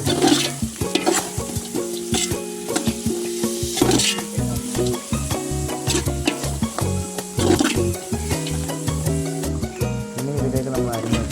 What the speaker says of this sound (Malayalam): ഒരു 3 സവാള ഇട്ട് വരട്ടെ.